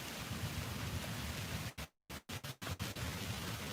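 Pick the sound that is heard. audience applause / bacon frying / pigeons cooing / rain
rain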